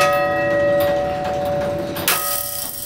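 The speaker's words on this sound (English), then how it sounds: "There's the striking, or chiming train, now that's this cog here, which causes the clock to chime the hour" A flatbed turret clock at a government building rings its bell, a single loud sustained metallic tone that slowly decays before a second strike near the end.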